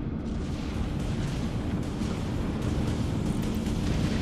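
A torpedo launch from a warship in the space combat game Dreadnought, a dense, steady rumbling roar of thrust with scattered crackling bursts, loud and sustained throughout without pause.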